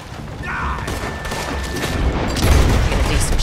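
Gunfire during a shootout in the Red Dead Redemption 2 video game, a steady barrage of shots and booms over dense background noise, swelling louder toward the end, with brief game voices mixed in.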